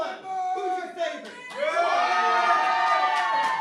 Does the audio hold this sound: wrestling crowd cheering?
yes